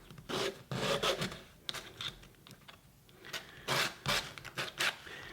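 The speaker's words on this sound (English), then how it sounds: "And then sand the edges of it." Sandpaper rasps over the edges of a wooden mallet on a workbench in short back-and-forth strokes, close and fairly quiet, with brief pauses between passes.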